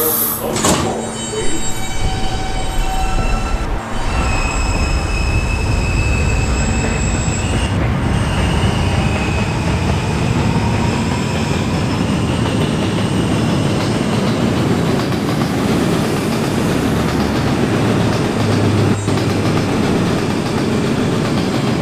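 A New York City R subway train runs at night toward the next station, with a loud rumbling roar of wheels on track, high metallic squeals early on and steady rolling noise throughout.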